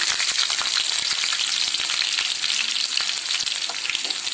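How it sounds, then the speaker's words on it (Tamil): Onions sautéing in a pan for drumstick kara kuzhambu, a steady close sizzle with scattered crackles and light stirring scrapes throughout, no voices. "அது கொஞ்சம் நல்லா வதங்கட்டும்"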